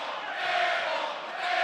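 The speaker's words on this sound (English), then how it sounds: "the crowd's going to let them know about it" A college basketball arena crowd at a Utah State home game against UNLV reacts to a missed three-point shot, a dense, sustained roar of many voices, loud and steady across the moment.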